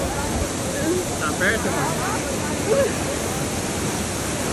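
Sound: waterfall roaring

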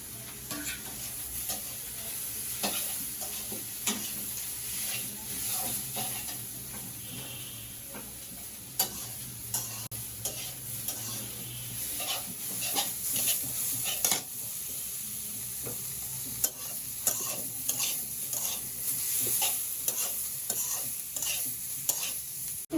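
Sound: greens frying with onion and garlic in a pan

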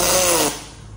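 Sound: welding aluminium parts in a jig

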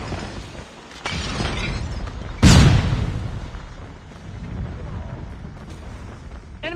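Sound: flashbang grenade going off in a video game

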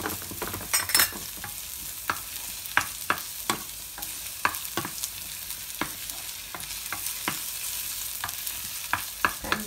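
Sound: onion frying with garlic in a pan

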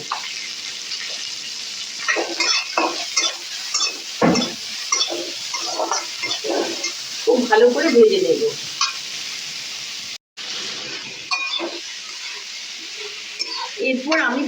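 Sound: onions frying with salt, stirred in a pan

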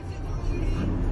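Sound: car driving on the road

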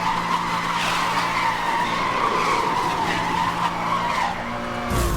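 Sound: car accelerating at top speed in Need for Speed: Hot Pursuit video game

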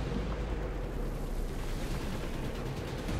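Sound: bomb explosion in a video game

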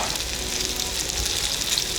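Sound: potatoes with mushrooms frying in a pan

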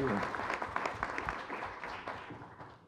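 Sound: audience applause at a forum

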